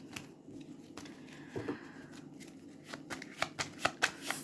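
Tarot cards being shuffled in quiet, dry riffling bursts that grow denser and louder toward the end, with sharp flicks and light slaps of the deck near the microphone and no voices.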